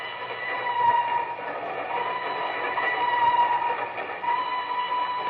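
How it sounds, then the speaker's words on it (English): A train rolls steadily across a trestle over a deep mountain gorge, its wheels rumbling and rattling in a continuous, slightly muffled drone with a faint whistle-like tone. "Two men stand on the swaying observation platform of a train which winds its way across a yawning chasm"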